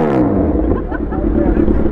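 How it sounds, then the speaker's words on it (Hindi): A Kawasaki Z900 motorcycle with a modified exhaust revs close by. Its engine note sweeps up and then settles as someone talks over it. "तो भाई एग्जॉस्ट का आपको साउंड वगैरह सुना देते हैं।"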